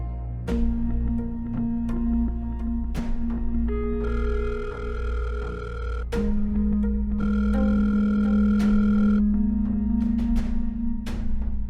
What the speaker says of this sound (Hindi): प्रॉब्लम ये है कि नायला आंटी का फोन रिसीव नहीं हो रहा और राहिल का फोन बंद है।